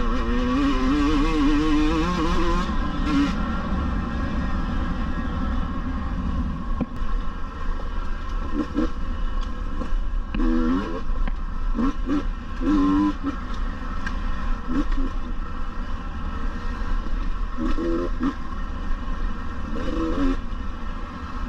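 KTM 150 TPI 2022 two-stroke dirt bike on a trail, its engine loud and close throughout, with repeated revving surges and throttle blips as it climbs and picks its way along the path.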